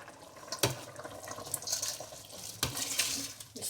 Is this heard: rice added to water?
yes